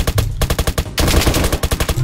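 Rapid gunfire in the Roblox game Apocalypse Rising 2, loud close bursts of sharp repeated shots in two volleys separated by a brief gap, dense and rhythmic.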